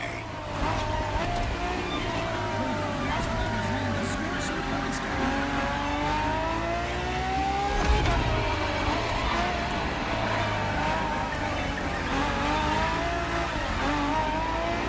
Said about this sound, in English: Then, for this second lap, you'll be driving the FXXK.